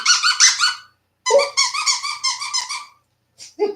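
A squeaky toy shaped like a paw, chewed up, squeaks in quick repeated high-pitched bursts as a dog works it, close and loud, with brief pauses between runs.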